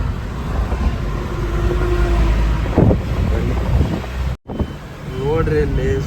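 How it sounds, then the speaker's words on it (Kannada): Strong whirlwind gusts carrying dust roar steadily in open country, a loud broadband rush buffeting the microphone, with a voice speaking briefly over it. "ನೋಡ್ರಿ ಇಲ್ಲಿ ಸುಂಟ್ರ ಗಾಳಿ."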